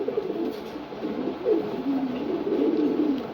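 A young pigeon coos softly in low, rolling phrases that repeat steadily and close by throughout, with no talking.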